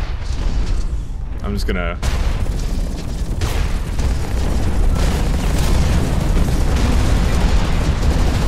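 Booming rocket blasts and rumbling mech combat in the shooter Hawken, loud and continuous with dense low-end roar, while someone talks briefly near the start.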